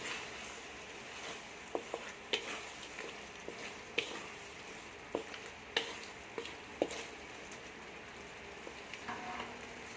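Okra stirred into softened, cooked chicken in a pot for bhindi gosht, with a soft steady sizzle and scattered light scraping clicks from the spoon at an even, unhurried pace.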